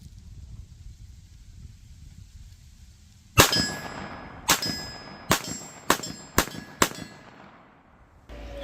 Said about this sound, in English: the muzzle report is so loud on this 22 mag, but these are all hits